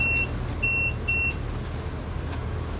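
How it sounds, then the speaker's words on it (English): Three short electronic collision-alarm beeps sound in quick succession aboard a motor boat over a steady low engine rumble, then the rumble continues alone. "Which is why we're getting all those alarms."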